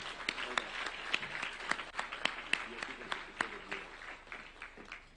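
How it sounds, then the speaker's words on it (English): Applause rises from an audience at a national prayer day event in Kenya, a steady wash of clapping with a few sharper claps standing out, moderately distant and fairly quiet throughout. "can we give a round of applause to the future of Kenya?"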